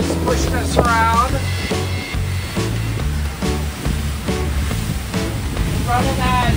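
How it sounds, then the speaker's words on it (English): Waves slap and push against a small boat running about 15 knots into wind and chop in sporty weather near Cumberland Island, Georgia, a steady loud wash of water and hull noise with engine rumble throughout. "We got good old waves pushing us around."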